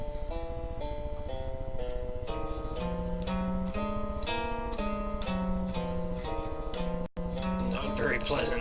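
Musical notes harmonized in flat fifths move in a steady stepwise line of paired tones, a dissonant, even-paced progression heard clearly and alone.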